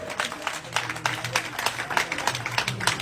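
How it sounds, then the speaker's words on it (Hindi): A crowd at an outdoor political rally claps steadily in a dense, continuous wash of applause, with some voices mixed in underneath. "ताली बजाओ एक बार जोर से।"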